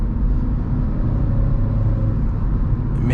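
Steady engine and road rumble inside a 2011 Volkswagen Polo GTI with 180 hp and DSG gearbox, heard from the cabin under hard driving, loud and continuous with no talk.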